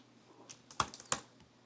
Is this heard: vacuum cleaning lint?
no